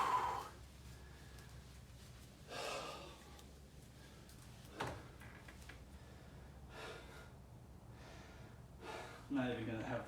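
Heavy, ragged gasping breaths follow an exercise set, loud and close. Several breathy bursts and snorting exhales recur over about ten seconds, with a short vocal sound at the end.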